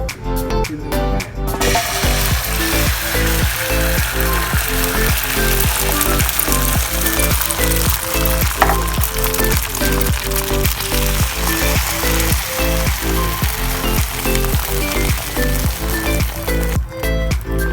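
Egg and spinach for an omelet sizzle loudly and steadily in a frying pan, a close, dense crackling hiss with fine rhythmic popping that continues without pause.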